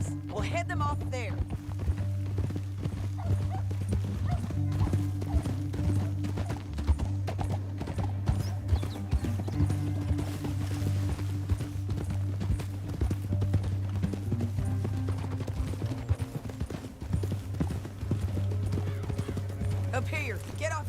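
Horse hooves clip-clopping in the Western game Red Dead Redemption 2 while riding through a canyon, a steady rapid rhythmic trot under a low musical drone and character talk, with an occasional whinny.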